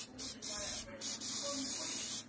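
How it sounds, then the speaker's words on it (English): Rust-protection spray hisses from an aerosol can around a car's suspension during winter maintenance, a steady close hiss with brief pauses between bursts. "Just to spray this around the suspension."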